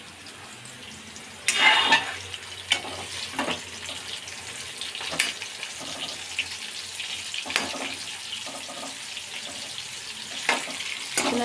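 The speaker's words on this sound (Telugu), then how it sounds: "ఇదిగోండి కాకరకాయలు వేగుతున్నాయి" Bitter gourds frying in a pan at home, a steady watery sizzle running throughout with a few louder crackling bursts, close and moderately loud with no talk.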